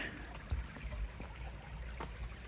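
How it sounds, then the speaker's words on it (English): A small brook flows along a seaside stroll toward Shaldon. It makes a soft, continuous outdoor wash of trickling water, fairly faint, with a few small splashes and no talking. "Here's a little brook"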